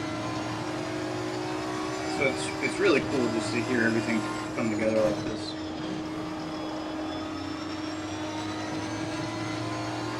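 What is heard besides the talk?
race car engine, transmission and brakes in Assetto Corsa Competizione video game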